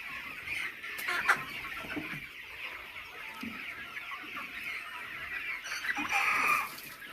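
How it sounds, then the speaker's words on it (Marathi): Kaveri breed hens cluck steadily on a rural poultry farm, a dense chorus of overlapping clucks and calls with a couple of louder nearby squawks, no talking. "ग्रामीण भागात शेतीला जोड व्यवसाय म्हणून कुक्कुटपालन या ठिकाणी कावेरी जातीचं केलेलं आहे."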